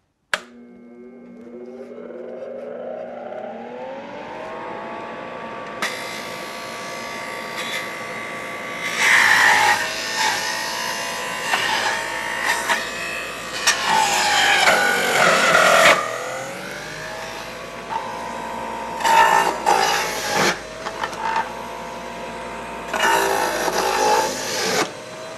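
An Omega juicer motor starts up and runs steadily as ginger pieces are fed through, with bursts of louder grinding and crunching as the pieces are pressed and crushed.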